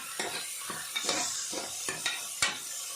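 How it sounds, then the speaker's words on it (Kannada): Tomato frying in a pan crackles with a steady sizzle, broken by regular scraping strokes of a spoon stirring it, close up and without speech. "tomato ಲಾಯ್ಕ್ fry ಆಂಡು"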